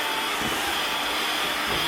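Electric hand mixer beating chocolate chip cookie batter, a steady loud whirring drone throughout with no talking.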